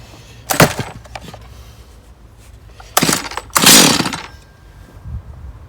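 A Stihl MS181 chainsaw on full choke is pull-started in three short bursts: quick cord pulls give brief sputtering engine catches that die away, separated by quiet pauses.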